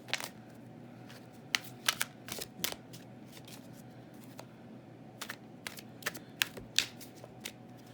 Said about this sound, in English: let's get 3 cards